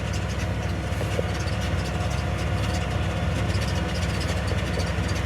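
A John Deere 8330 tractor engine runs steadily at idle while seeding rye, a continuous low rumble with no voices.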